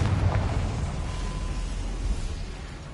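A Confringo spell in Hogwarts Legacy sets off a deep, rumbling blast that opens loud and heavy, then rolls on as a dull roar and slowly fades over a few seconds.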